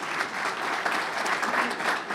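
Sustained audience applause at a university president's community breakfast, steady dense clapping throughout with no break, filling the room evenly.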